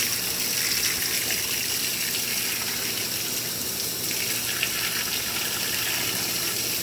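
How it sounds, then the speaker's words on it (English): Water gushing steadily into a GE GTW680BS6JWS top-load washing machine on deep fill, a continuous loud splashing hiss with a low underlying hum. "So I'm going to activate deep fill until it gets to a water level that I think is preferable."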